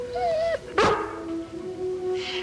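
Lassie, a collie, lets out one sharp close bark that falls away into a soft whine. Other household sounds carry on faintly behind it.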